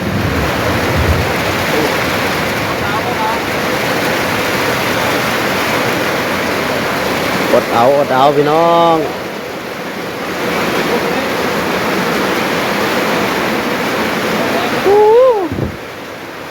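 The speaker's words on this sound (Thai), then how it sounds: "ฝนตกตลอด" Heavy rain pours down in a continuous loud roaring wash, with brief voices and some creaking or squealing noises rising over it now and then.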